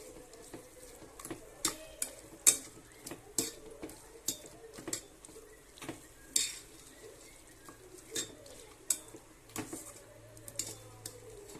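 Half a kilo of mutton sautéed in a pan, with a soft continuous sizzle and a string of close spatula scrapes and clinks at an irregular, roughly half-second pace.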